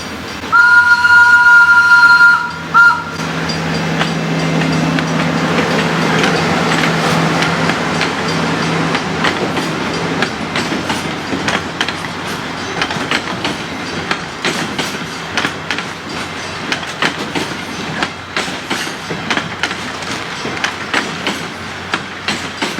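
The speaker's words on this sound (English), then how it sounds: "speaking of the train, I think it's actually coming, which is so cool." A train at Disney's Animal Kingdom rolls past, starting with a loud steady horn blast, then a long rumbling clatter of wheels and cars with rhythmic clicks, close and sustained for the whole pass, no talking.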